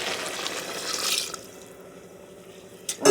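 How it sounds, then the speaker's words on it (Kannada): Water poured onto basmati rice for veg pulao, a pouring splash for just over a second, then a quiet lull before a short knock at the end. "ನೀರು ಪಾಡಲೆ"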